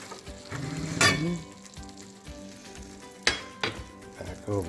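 A spoon stirs and scrapes grits in a cooking pot close by, with gritty scraping strokes, a low bubbling sizzle and occasional sharp clinks against the pot.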